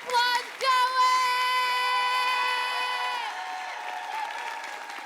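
A crowd at a televised Indigenous music awards show breaks into applause after a couple of sharp bursts, the clapping mixed with a loud sustained tonal whoop or musical tone that fades, leaving steady clapping at the end.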